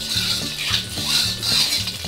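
Ground spice paste for East Javanese telur petis is poured into hot oil and stirred, giving a steady sizzle under repeated rhythmic scrapes and clinks of a utensil against the pan, close and fairly loud.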